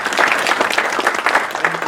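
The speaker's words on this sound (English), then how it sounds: "if everybody could, again, join me in a warm round of applause here for DJ." A conference audience claps in a warm round of applause, a dense, fairly close stream of overlapping handclaps that runs steadily throughout.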